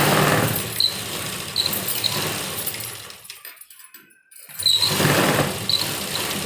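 Sewing machine stitching a round-shaped kurti from warm winter fabric, a loud close mechanical whir running in two bursts with a brief pause in the middle.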